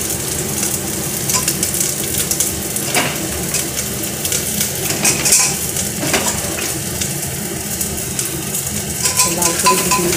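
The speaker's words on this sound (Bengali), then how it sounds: "এবারে দেবো নারকেল কোড়া, কাঁচা লঙ্কা আর এলাচ থেতো করা, দিয়ে আবার নেড়ে নেব" Grated coconut, green chili and crushed cardamom stirred in a hot pan while cooking daliya khichdi, a steady sizzle with repeated scraping and clinks of a spatula against the pan, close and continuous with no talk.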